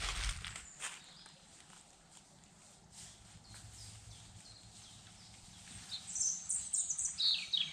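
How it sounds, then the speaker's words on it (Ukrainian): Faint birdsong chirps in a quiet forest, growing more noticeable toward the end, with soft rustling below. "О, як птахи співають."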